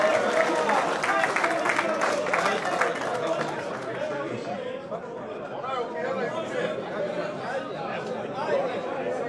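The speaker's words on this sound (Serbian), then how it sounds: "Idemo još jedan aplauz." Applause and crowd chatter for the winner at a fox hunt memorial event, a dense, sustained clapping that fills the whole stretch, strongest early and then easing into a steady murmur of the gathering with voices mixed in.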